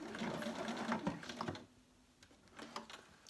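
A sewing machine stitches along the fabric edge of a peg bag, a close, fast mechanical chatter that runs continuously, then eases to lighter, softer stitching toward the end.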